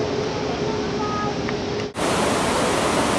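Rushing water from a waterfall and stream fills the scene as a loud, constant close roar with a brief dip partway through, and no voices are heard.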